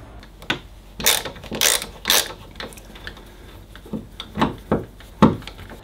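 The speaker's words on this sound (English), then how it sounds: "So let's go ahead and remove the screw." A screwdriver works loose the single screw holding an RV window sash, giving a series of close, irregular ratcheting clicks and squeaky turning bursts with short pauses between them.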